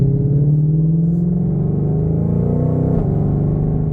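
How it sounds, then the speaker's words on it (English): A Ford GT500's engine and exhaust drone steadily with rising pitch as it revs in second gear, loud and close, with a brief crackle near the end. "All right, so here's the exhaust."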